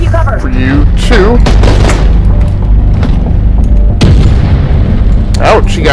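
Booming blasts go off in a video game, consistent with grenade explosions, with a couple of heavy thumps and sharp cracks near the start and around four seconds in, while voices talk throughout.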